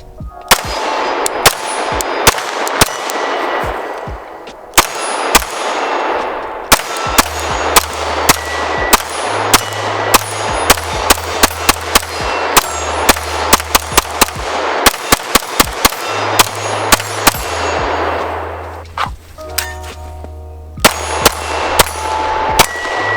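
Rapid strings of gunshots from a pistol fed by a 50-round drum magazine ring off steel targets at a shooting range, with sharp metallic clangs after many hits. A low electronic beeping hum runs through the second half.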